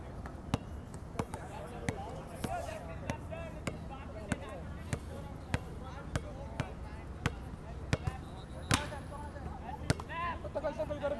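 Basketball dribbled steadily on an outdoor court during a pickup game, a sharp regular bounce about once a second that runs throughout, with voices talking over it.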